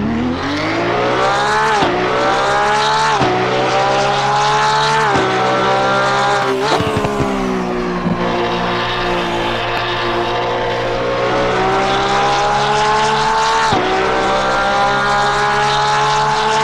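Loud racing car engines in Assetto Corsa Competizione roar and rev continuously, pitch rising and dropping through repeated gear shifts, close and sustained throughout.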